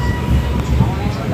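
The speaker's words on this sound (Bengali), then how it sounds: "আর ট্রেন তো ছেড়ে দিয়েছে, 4:30 সময় ছাড়লো" A passenger train runs steadily, heard from inside a carriage as a continuous low rumble and rattle with faint, indistinct voices in the background.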